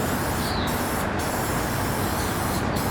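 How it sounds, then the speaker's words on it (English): Slipstream60 cockpit spray hissing steadily onto aged, dull plastic surfaces, a continuous close broadband spray lasting the whole moment with no voices. "spray it over the plastic surfaces"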